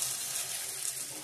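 Hot water poured into a pan of simmering chicken curry with meat, potatoes and softened onions, giving a steady close hiss and sizzle of liquid hitting hot oil and spices, continuous throughout with no talk.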